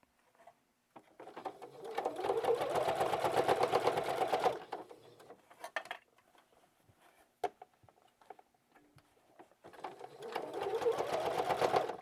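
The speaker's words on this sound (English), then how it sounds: "now we're going to top stitch all the way around, just with a very small 1/8 inch seam" A sewing machine top-stitches a narrow seam around a fabric basket made from 10-inch squares, running in two long steady bursts of rapid mechanical whirring separated by quieter handling and clicks.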